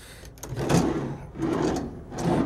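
A cutlery drawer in the kitchen of a 2005 Itasca Suncruiser 35A Class A motorhome slides open and shut, two or three rolling glides with soft knocks, close and fairly loud.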